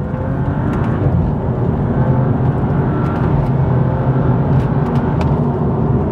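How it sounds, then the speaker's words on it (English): A BMW M235i drops into second gear and accelerates, its engine giving a loud, close, continuous roar that builds steadily with no voices. "Down into second."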